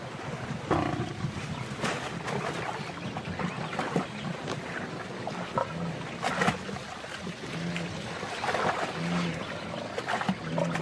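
A lioness seizes a gnu by the throat and kills it, with low roaring and growling grunts over a continuous rough outdoor rumble, steady and fairly close, with no voices.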